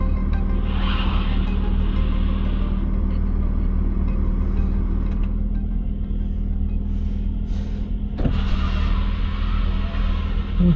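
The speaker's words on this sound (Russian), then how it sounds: "Ничего себе он буксует." A heavy, loaded vehicle, stuck and spinning its wheels, gives a steady, loud engine rumble with a straining, revving edge that holds for the whole stretch, with a brief surge of noise near the end.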